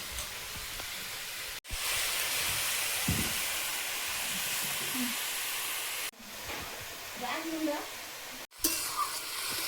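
Shrimp fry in hot oil with salt in a home kitchen, giving a loud, steady sizzle that is broken by a few sharp cuts, with faint stirring noises beneath.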